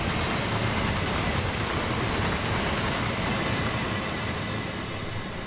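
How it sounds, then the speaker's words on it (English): A freight train hauling tanker wagons, led by a Siemens Vectron BR185.5 locomotive, roars past a disused platform in a train simulator, a loud, steady rumble with rail noise that stays close throughout and fades only slightly at the end. "There she goes. A lot of our tankers. It's another freight train."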